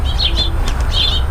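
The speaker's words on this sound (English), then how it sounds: "We got lots of birds too." Small birds chirp in a hot desert garden in Las Cruces, New Mexico, with bright high tweets in short bursts over a steady low background rumble.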